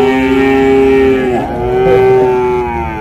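Cattle moo loudly and close by while being unloaded at a market, one long drawn-out low call followed by another, with no talking.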